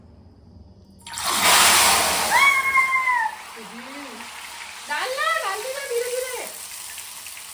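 Ghewar batter spooned into hot oil sets off a sudden loud sizzling burst that slowly fades to a steady fry, with voices talking over it at close range.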